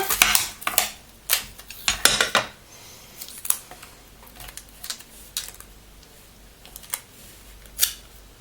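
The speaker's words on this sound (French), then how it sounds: "On va remettre un petit bout de scotch." Sharp crinkly tearing and crackling bursts of sticky tape being pulled off a roll and pressed down while making a small backpack, in irregular clusters with quiet gaps.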